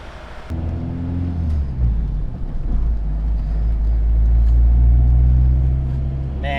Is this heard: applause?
no